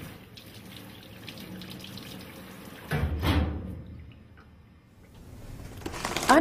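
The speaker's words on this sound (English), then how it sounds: "Rinse hands and arms thoroughly." Water runs steadily from a tap while hands and arms are rinsed during a surgical scrub. The flow is loud and near, with splashy surges as the arms pass through the stream, and no one speaks.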